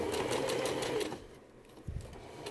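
A sewing machine stitching a seam in pajama pant fabric, a close, fast rhythmic whirr for about a second, then a pause and a brief burst as it backstitches.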